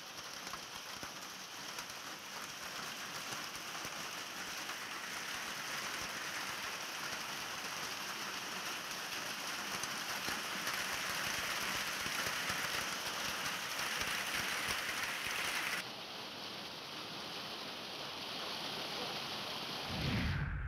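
Steady rainfall during a heavy spell in Maharashtra, a continuous even hiss of drops on surfaces that holds for about sixteen seconds, then eases to a slightly softer wash.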